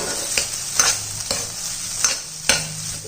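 Boiled samba wheat rava being stirred with vegetables in a pan, a steady sizzle broken by several distinct scraping strokes of the spoon, close and alone with no talk.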